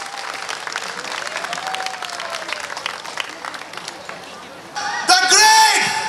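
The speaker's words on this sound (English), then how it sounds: "So big round of applause for Patrick." Audience applause at a live concert during a community family fun fair, a dense steady wash of clapping for about five seconds, swelling louder near the end as cheering and tonal sound rise over it.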